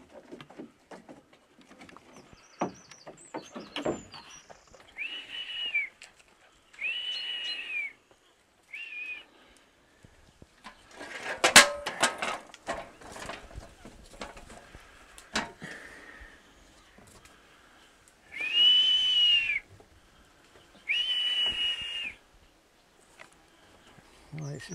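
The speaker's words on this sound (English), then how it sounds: "Does it have a calming effect when you whistle like that?" A man whistles in short, repeated high-pitched bursts to call a bird in a quiet rural setting, with speech and rustling handling sounds between the whistles.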